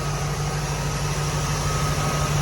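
A rebuilt original 304 V8 with new pistons, rods and cam, in a 1979 Jeep CJ-7 with a Turbo 400 transmission, idles at a steady, low rumble that stays even throughout.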